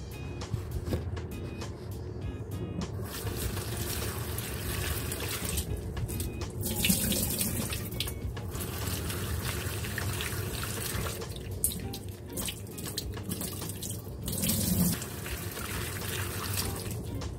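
Tap water runs steadily into a sink while bitter melon is rinsed, a continuous splashing stream with small surges and drips, close and alone without talk.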